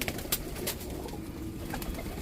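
Border line pigeons, including a red-eyed golden female, coo low and faintly in a loft, with a couple of brief sharp clicks near the start over a soft background hum.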